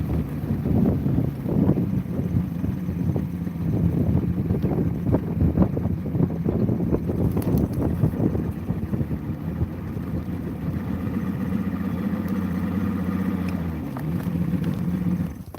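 A big boat motor runs on the Ohio River, a steady, close low drone that continues unbroken, with gusty wind buffeting the microphone over it.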